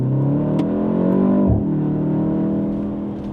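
A 2025 BMW M135 xDrive engine revs loudly and close by on a drive in South Africa, the pitch climbing, dipping sharply for a moment, then rising again, with no talk over it.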